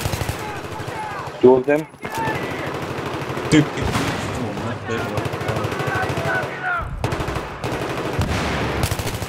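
Automatic gunfire rattles in bursts during a competitive online shooter match, with loud shots and sharp explosive cracks, while players talk to each other over the game audio.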